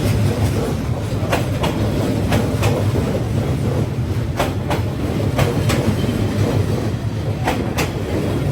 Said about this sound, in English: A thundering train rushes past just feet away.